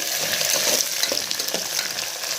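Onion frying in a pan of mutton curry sizzles steadily and loudly, a dense continuous crackle with small stirring scrapes, no voices.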